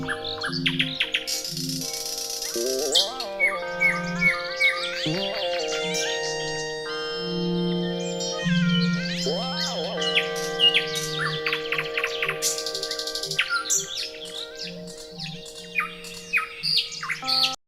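Lively bird song of varied chirps, trills and whistles recorded in a Berlin park, over a steady sustained drone from a Norns synthesizer, the birdcalls bright and repeating throughout.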